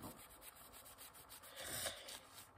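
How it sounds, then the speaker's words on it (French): Steady scratchy rubbing of a cloth or brush over a paint-smeared stencil being cleaned, a continuous close friction with a slightly louder stretch near the end. "Je vais nettoyer mon pochoir."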